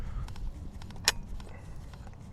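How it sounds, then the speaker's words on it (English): A screw is tightened down on a Browning A5 20 gauge humpback shotgun, giving one sharp, bright click midway through over a low, steady rumble. "push down, that way it hits the threads, and you should hear some clicking"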